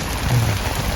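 Heavy rain pours steadily on a delivery rider out in the cold and wet, a dense continuous hiss of drops close by with no talk.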